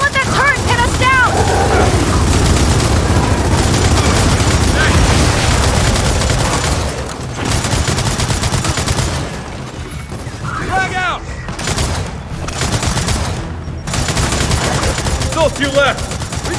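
Turret gunfire in the Gears of War 4 campaign, loud sustained bursts of rapid shots and heavy booms that rattle on, ease off mid-way, then pick back up, with chirpy voices and effects mixed in.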